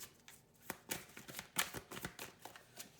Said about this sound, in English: Let's focus on shuffling a little bit better here.